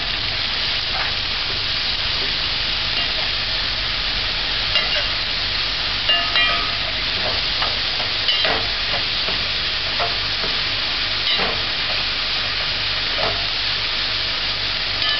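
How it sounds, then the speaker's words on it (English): Callaloo leaves stir-frying in a hot pan: a loud, continuous sizzle with scattered clinks and scrapes as the greens are tossed, with no voices. "Add the callaloo. And stir fry."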